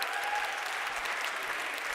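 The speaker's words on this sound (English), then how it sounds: "Give a round of applause to the brilliant Kate Maunders." Audience applause at a RISE 2025 conference Q&A session on inclusion for innovation: steady, dense clapping from a large crowd for a couple of seconds, with no speech over it.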